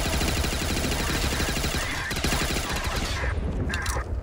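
Rapid volley of booming cannon shots in a pirate island video game, loud and close, firing in quick succession before tapering off near the end.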